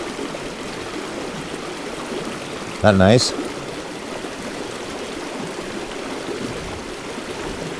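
Brook running steadily as its ice melts and the water begins to open up, a continuous wash of flowing water throughout, with a brief louder splash or clatter near the middle and a short spoken remark over it.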